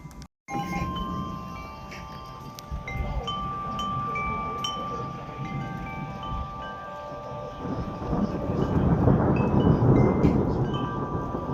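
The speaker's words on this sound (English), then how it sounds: "So we're currently in a thunderstorm right now." Thunderstorm with low, rumbling thunder and gusty wind buffeting the microphone, building to a louder roll near the end, with faint tinkling chimes ringing throughout.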